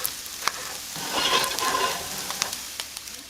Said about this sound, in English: I use canola oil to fry.